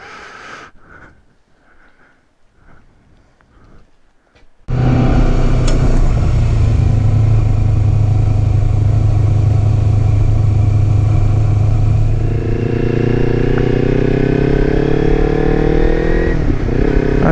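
Kawasaki Versys X300 motorcycle pulling away from a campground: after a few seconds of quiet rustling, the engine starts loud and close, idling roughly, then revving and accelerating as it rides off.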